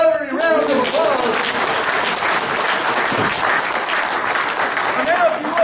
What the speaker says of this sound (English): Give yourselves a big Rotary round of applause.